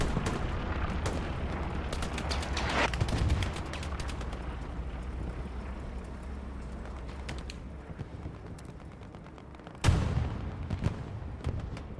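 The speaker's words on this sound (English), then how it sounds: "Explosion happens over to our left." Explosions and gunfire from the World War II shooter Hell Let Loose, in a match at Carentan with tanks. Scattered distant gunshot cracks and a low rumble run throughout, and a sharper, louder blast comes near the end.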